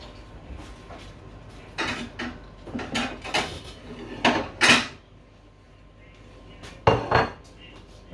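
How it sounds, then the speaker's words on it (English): Dishes clatter in a kitchen as a plate is pulled from a stack, with several separate knocks and clinks of crockery spread across the moment before things go quiet. "Let's grab a plate."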